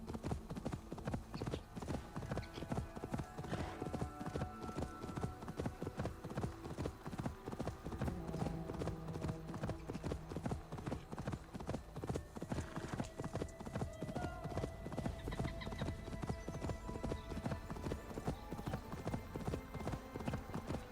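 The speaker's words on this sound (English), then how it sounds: "using your horse to travel like this, very fast" Horse hooves pound steadily at a fast gallop while riding through Assassin's Creed Valhalla. The clip-clop rhythm is continuous and loud, with occasional snorts and faint game sounds underneath.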